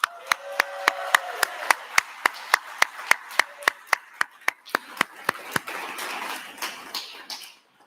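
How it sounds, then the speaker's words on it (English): Applause at a Scottish social enterprise awards ceremony in 2023: one nearby clapper's sharp, steady claps stand out over a softer crowd applause that swells toward the end before fading. "So I would like you to all give a round of applause to the Social Enterprise Scotland team."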